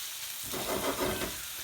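Raw onions sizzle and fry in a pan for jeera chicken, a soft, steady hiss that swells briefly as they are stirred, fairly quiet and without voices.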